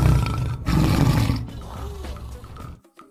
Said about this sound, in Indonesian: Wah, ini ada harimau Sumatera.